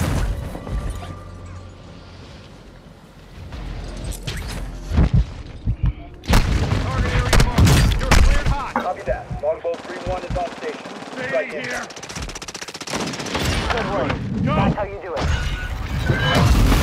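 Airstrike explosions tear through a battle royale video game match, a run of loud, heavy booms layered with rapid gunfire bursts and crashes, dense and close throughout with brief lulls between blasts.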